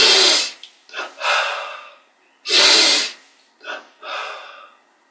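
Two loud breathy exhalations during a yoga and meditation exercise, each a strong rush of air followed by softer trailing breaths, close and alone with no talk.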